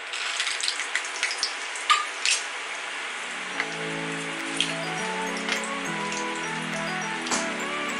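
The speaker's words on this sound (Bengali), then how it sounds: "দেখো কড়াতে আমি প্রথমে বাদামটা ভেজে নেবো।" Peanuts fry in hot oil in a wok, giving a steady close crackle and spitting sizzle that hisses continuously, with a low bubbling hum building underneath and occasional louder pops.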